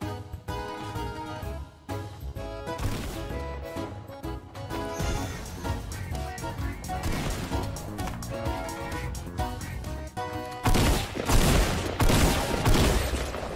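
Dense gunfire in the video game Fortnite, rapid bursts of shots layered over game music and sound effects, loud and continuous with a heavier volley near the end; voices faintly mixed in.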